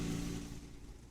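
A motorcycle engine drives off, loud at first and fading quickly as it pulls away.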